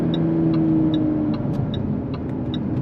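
A Jaguar F-Type S with 380 horsepower, in sport mode with its sport exhaust valve open, gives a loud, steady engine drone that holds close and continuous throughout, with faint ticking.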